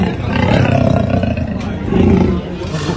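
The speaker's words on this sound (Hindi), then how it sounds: "घर के अंदर बंद इस तेंदुए की दहाड़ को सुनिए।" A leopard trapped inside a house in Aligarh roars, loud, close and rasping, in two long throaty bursts with a short pause between them.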